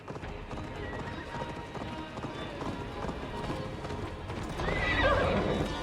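A horse gallops in Assassin's Creed Valhalla, with rapid rhythmic hoofbeats and a neigh near the end, mixed with game sound and under speech.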